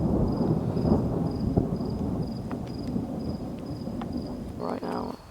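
Thunder from a severe lightning storm in Dubai rolls as a continuous low rumble under heavy storm noise. A steady high insect-like whine and a few faint voices sit in the background.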